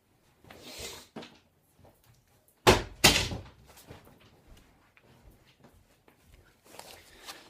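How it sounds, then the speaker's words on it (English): A door is pushed shut indoors, giving two loud, close thuds in quick succession amid quiet room noise, followed by faint shuffling and footsteps. "I just had to close the door"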